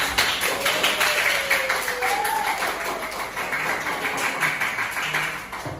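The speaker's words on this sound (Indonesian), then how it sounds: "Aplaus dulu untuk Pak." An audience applauds a speaker at a teacher-training collaboration session, a dense burst of many hands clapping that runs steadily throughout, with faint voices mixed in.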